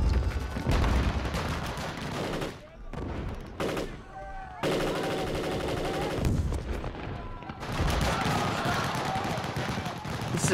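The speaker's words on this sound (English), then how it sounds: "AK-47 and M16 firefight." AK-47 and M16 rifles exchange fire in a firefight, dense bursts of automatic gunfire and single shots crackling loudly with short gaps, from a Vietnam War setting, with voices mixed under the shooting.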